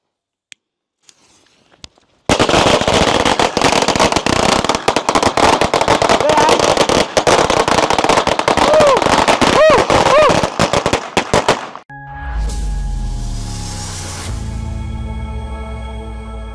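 A long string of Chinese firecrackers set off for Lunar New Year, a dense, loud crackling barrage of rapid bangs running continuously for about ten seconds after a few isolated pops, then giving way to lingering rumble and background noise.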